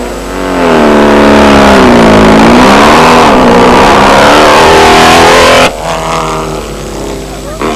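Race car engines roar close by at the 1987 Toyota 1000 race. Loud revs rise and fall as the cars pass, then drop suddenly to a lower, rougher engine drone.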